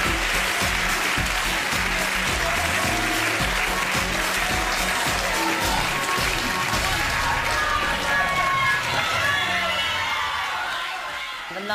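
A crowd applauds for two members of a British girl band, sustained clapping and some cheering that runs over loud music throughout and eases off near the end.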